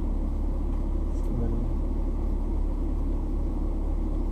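A BMW M235i with 326 hp rumbling steadily on a test track, its engine drone constant and close with no rise or break, heard from inside the car.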